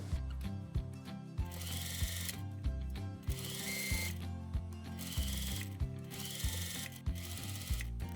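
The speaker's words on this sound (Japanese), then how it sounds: "その後バイアステープをミシンでステッチで留めていきます。" A sewing machine stitches bias tape around the neckline of a homemade top, running in bursts of rapid mechanical clatter separated by short pauses, close and fairly quiet.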